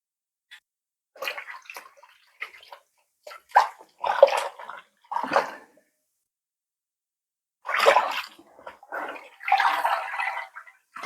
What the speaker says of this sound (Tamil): ஃபஸ்ட்டு 2 தடவை நல்லா தண்ணியில் கழுவி எடுத்துக்கலாம்